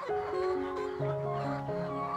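Rhode Island Red laying hens cluck steadily and close, their tonal calls layered and overlapping in a continuous chorus.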